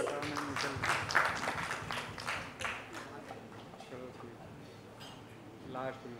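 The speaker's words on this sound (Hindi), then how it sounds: "एक बार इनके लिए भी जोरदार तालियां हो जाए प्लीज" Audience at a Bollywood film trailer and music launch event applauding a guest invited on stage, steady crowd clapping that swells then fades, with a voice over the hall sound system.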